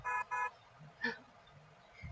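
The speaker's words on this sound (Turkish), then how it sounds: "Korna çaldı" Two quick car horn toots in a row, then a shorter third blast, with a synthetic game-like tone from Roblox Brookhaven, moderately loud over quiet background.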